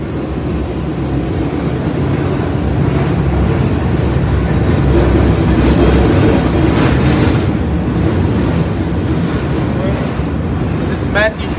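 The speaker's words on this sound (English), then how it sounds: "wait for the train to back" A train rumbles along the rails close by, a loud, steady roar with a clickety-clack texture that holds for the whole stretch, ending in a brief squeal near the finish.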